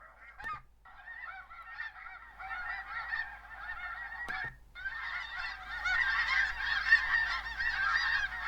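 Recorded snow goose calls played back for spring conservation decoy hunting: a loud flock clamor of overlapping honks and yelps, with brief gaps before the chorus swells fuller and denser toward the end.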